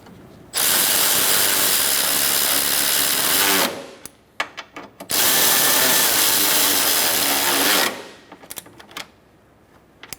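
Bolts on a 2014–2019 Kia Soul front bumper are tightened with two long, loud, steady whirring runs of a power tool, each ending in brief ratcheting clicks and taps.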